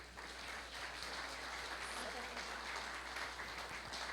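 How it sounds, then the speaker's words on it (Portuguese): A church congregation claps together during an online worship service, a soft, distant, sustained patter of applause over a low steady hum. "Vamos aplaudir, queridos."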